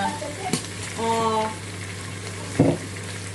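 Tomatoes and garlic sizzling in a pan, a low steady fry under scattered clinks and scraping of stirring, with a brief spoken voice and a sharp knock near the end.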